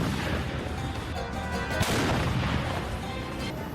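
A mobile artillery gun firing shells in the Russia–Ukraine war, heard as a dense, roaring blast with rumbling booms and a sharp crack near the middle, loud and sustained without speech.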